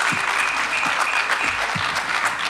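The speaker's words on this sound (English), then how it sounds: "Let's clap for ourselves." A crowd at a Ghana Football Association gathering breaks into sustained clapping, a thick continuous patter of many hands, fairly close and loud throughout, with faint scattered voices beneath.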